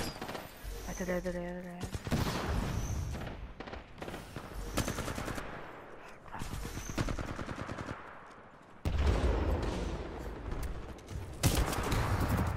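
Rapid bursts of R101 carbine fire in the Titanfall 2 multiplayer video game, close and punchy, with short gaps, mechanical clicks and reload clatter between volleys and a player talking over parts.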